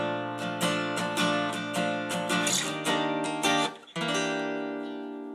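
Electric guitar strumming rich, sustained jazzy chords in a steady rhythm, a brief break near the end before a final ringing chord.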